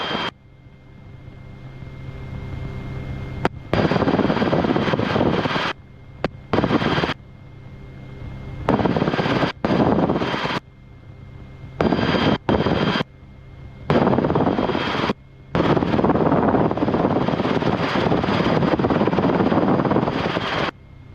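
Rotorway kit helicopter in flight on approach to a ramp, its engine drone and rotor thump filling the cabin steadily, broken by repeated abrupt cutouts and returns over about twenty seconds.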